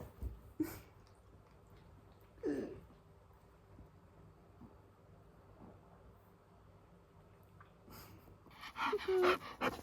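Pet-sat dogs pant softly and let out a few short whimpers and yelps, close by, with quiet gaps between and a louder burst of movement and vocal noise at the end.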